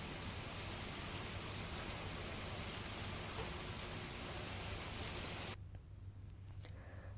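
Heavy monsoon downpour on the coastal belt of Jafrabad, Amreli, a dense, steady roar of rain close by that stays loud and even, then thins abruptly near the end to a quieter patter with a low hum beneath.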